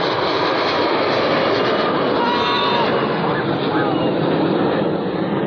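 An airplane roars past during an air show at Marina beach in Chennai, a loud continuous engine rush with wind noise lasting the whole stretch, while spectators talk over it.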